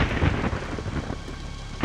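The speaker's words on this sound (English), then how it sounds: "you throw a few balls of lightning around" Thunder rumbles from lightning balls thrown in a ninja action game, a loud, broad, noisy roll that fades gradually over a couple of seconds, with no voices.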